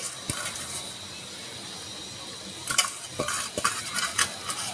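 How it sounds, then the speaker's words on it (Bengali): Grated carrot stirred and fried in ghee for carrot pudding: a soft, low sizzle runs underneath while a spoon or spatula scrapes the pan in a burst of clustered strokes near the end. "এভাবে গাজরটাকে নেড়ে ছেড়ে গাজরটা যখন শুকিয়ে যাবে, শুকানো না পর্যন্ত এভাবে নেড়ে ছেড়ে গাজরটাকে ভেজে নিতে হবে।"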